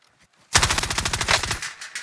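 Automatic gunfire in a video game: a loud, rapid burst of shots in a fast, even rhythm lasting about a second, then a short tail as it fades, with no talk over it.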